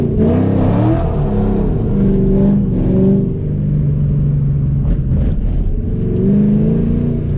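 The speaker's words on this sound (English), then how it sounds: "Roll the windows down for you so you guys can hear the exhaust a little bit better." A cammed 2015 Chevrolet Camaro SS 1LE V8 revs and accelerates, its aftermarket exhaust heard up close with the windows down, rising and falling in loud throaty pulls with a lumpy idle character between them.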